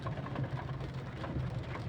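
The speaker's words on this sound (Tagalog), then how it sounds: "Umuulan na naman." Rain falling on a road on a wet morning, a steady close broadband hiss of drops with a low rumbling undertone, continuous throughout with no voices.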